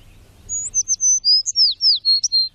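A bird in the forests of the Chernobyl exclusion zone gives a quick series of about a dozen high, thin chirps and tweets in an irregular rhythm, loud and close over a faint low rumble.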